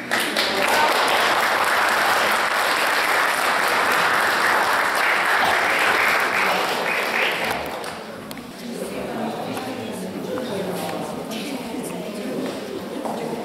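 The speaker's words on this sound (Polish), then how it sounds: "jeszcze raz wielkie brawa dla tych naszych wspaniałych kobiet, artystek, wykonawców" Sustained applause from an audience honouring women artists and performers at an arts event, loud and steady for about eight seconds before easing into a thinner patter of clapping mixed with crowd murmur.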